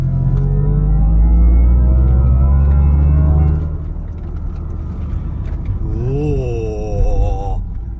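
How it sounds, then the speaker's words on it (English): A Mercedes-AMG with the Dynamic Plus package's performance sound accelerates, its loud engine note climbing steadily for about four seconds before dropping away to a softer rumble with a brief whistling tone near the end. "you can upgrade to the Dynamic Plus package, then you get performance sound. So have a listen to this now when I accelerate"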